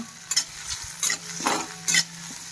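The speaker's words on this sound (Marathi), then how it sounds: "टोमॅटोला जास्त शिजवायची अजिबात गरज नाही, जस्ट थोडंसं परतून घ्यायचं आहे" Tomato with coriander and salt sautéing in a pan, a soft sizzle under three or four distinct spatula scrapes spaced about half a second apart, close and without voices.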